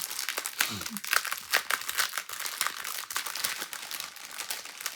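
Crinkly plastic packaging rustles and crackles continuously up close as a diamond painting kit bag is handled and opened.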